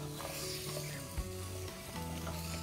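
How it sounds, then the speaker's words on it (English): Mutton frying with onion and ginger garlic paste for dhaba-style bhuna gosht, a steady close sizzle with a brief soft knock midway. "I've bhunot the mutton with the onion and ginger garlic paste for a couple of minutes."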